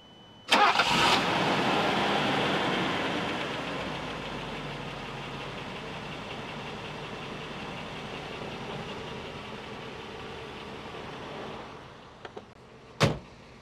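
A 1980s Mercedes car engine cranks and catches with a sharp burst, then settles into a smooth, quiet idle that runs steadily for several seconds before a couple of faint clicks and a solid thud near the end.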